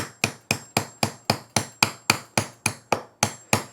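A hammer strikes a metal punch held just above wood, about thirteen sharp, evenly spaced taps with a ringing tail, close and loud, with no voices.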